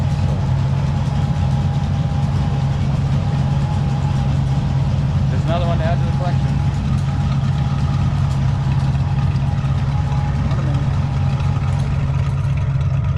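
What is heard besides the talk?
tractor engine idling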